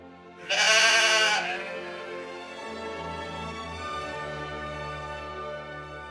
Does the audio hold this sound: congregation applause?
no